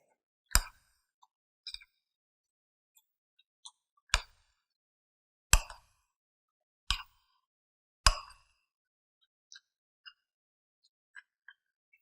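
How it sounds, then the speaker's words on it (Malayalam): Sauce is mixed into chopped onions in a bowl, giving a handful of separate, fairly sharp wet knocks and clinks from a utensil against the bowl, spaced a second or more apart, with faint taps in between and no talk. "ഇതെല്ലാം കൂടി നന്നായിട്ടൊന്ന് മിക്സ് ചെയ്യാം."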